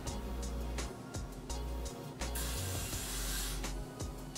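Got2b hairspray hisses out of an aerosol can in a rapid series of close, loud bursts with short pauses between them.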